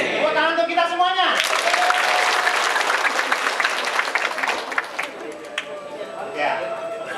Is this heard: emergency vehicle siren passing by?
no